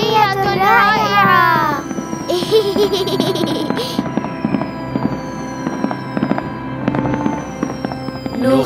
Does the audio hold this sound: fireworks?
yes